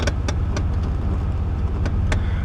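A car readied for a New York State inspection idles and is revved to about 1300 RPM, a low steady engine rumble close by with a few sharp clicks over it and no talk.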